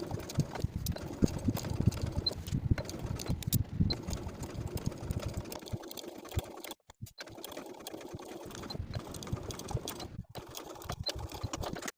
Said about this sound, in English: we're going to stitch in the ditch of that waistband seam from center front to center front